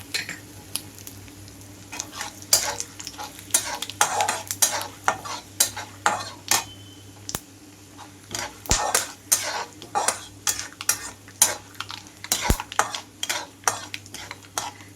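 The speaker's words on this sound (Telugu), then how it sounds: "పచ్చిశనగపప్పు కలర్ మారే వరకు వేయించుకోవాలి." Chana dal, mustard seeds and cumin fry in a pan while a spatula stirs in a rhythmic series of sharp metallic scrapes and clinks over a soft, steady sizzle.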